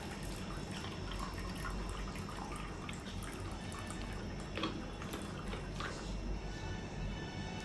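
Water pours steadily from a Leo Life 5-liter alkaline water jar, a continuous close splashing stream with faint dripping edges that runs the whole time without pause or speech.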